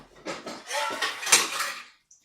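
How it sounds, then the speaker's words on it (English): Metal pots and pans clatter and clank as a pan is grabbed in a home kitchen, a burst of loud, close jangling over about two seconds. "while I grab another pan"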